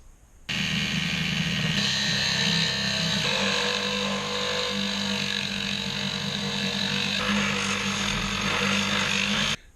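A rebuilt Dremel rotary tool runs at full speed, a steady loud high-pitched whine that holds for several seconds with slight shifts in pitch, close up and with no talk over it.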